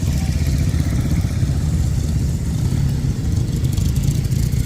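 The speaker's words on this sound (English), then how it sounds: "That motorbike's been on the TV." A vintage motorbike engine runs at a steam and vintage rally, giving a steady, loud, rough low-pitched chugging with a clattery mechanical texture and no break in the sound.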